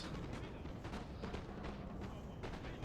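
Massed musket volleys crackle and thud in a Napoleon Total War battle on grassy flatlands, dense repeated shots layered over a constant rumble of distant battle noise.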